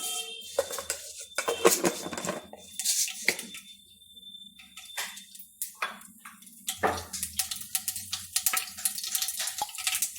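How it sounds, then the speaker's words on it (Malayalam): Sharp, irregular crackles and pops from mustard seeds spitting in hot coconut oil, coming in scattered bursts with brief quieter gaps. "കടുക് പൊട്ടി"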